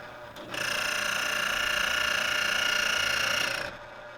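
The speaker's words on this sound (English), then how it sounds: "run the grinder with no beans loaded and continue adjusting the grind size finer until you hear the burrs just touching" A Eureka Mignon Silenzio 55 espresso grinder running empty with its burrs just touching gives a steady, bright, whirring grind, close and fairly loud, for about three seconds before cutting off.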